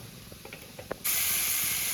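Spiced fish, coated with cumin, dried red chilli and garlic, lands in hot oil in a wok and erupts into a loud, steady hiss and spatter after a few faint clinks, with no talk.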